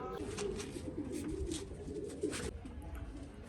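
Pigeons coo softly in a loft as five of them are let go, low repeated calls with faint rustling and a brief voice in the background.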